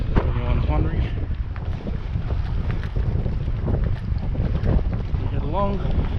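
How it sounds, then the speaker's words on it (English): Steady low rumbling buffet of wind on the microphone throughout, on a walkway at Mundaring Weir on a windy day, with voices talking over it. "Apologies for the wind, it is quite a windy day today."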